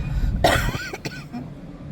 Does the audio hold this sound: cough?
yes